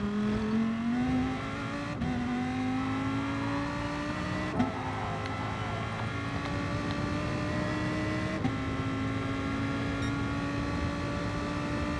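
Race cars overtaking in a racing video game: a steady, loud engine whine climbs in pitch and drops at gear shifts every few seconds, with no talking.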